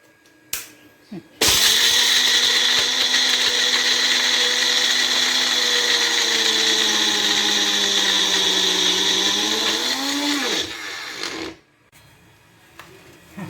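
A mixer grinder grinding warmed peanuts starts up with a sharp whir and runs loud and steady for about ten seconds, its pitch shifting slightly before it cuts off.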